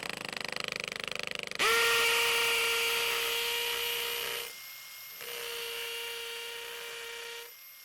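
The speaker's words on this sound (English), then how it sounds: "So drill set to hammer mode, got the proper bit in here. Let's go ahead and drive our hole." A hammer drill in hammer mode whines loudly at high speed for a few seconds, pauses briefly, then runs again before stopping, boring a hole through cinder block.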